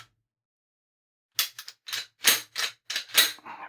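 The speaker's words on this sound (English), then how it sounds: "Now I'll be dry firing again." Dry firing a Taurus pistol: after a second of silence, a run of about eight sharp, close mechanical clicks and snaps comes in an uneven rhythm, with no talk.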